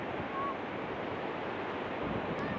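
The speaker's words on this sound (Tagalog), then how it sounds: "Mayroong malakas na alon." Strong sea waves at Lingayen beach in Pangasinan make a steady, continuous wash of surf with some wind noise, fairly even in loudness throughout.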